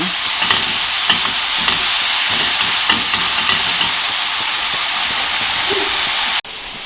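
Sweet and spicy chicken is stirred in a frying pan, a loud, steady sizzle and hiss with repeated scraping strokes of the spatula, close up and continuous, briefly cut off near the end, with no talking.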